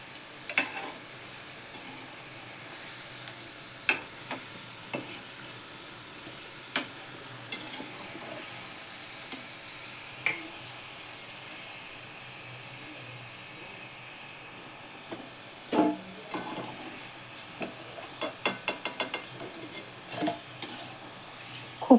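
Modak sweet dumplings frying in hot oil give off a steady, soft sizzle, broken by scattered clinks and scrapes of a utensil against the pan, with a quick run of taps near the end.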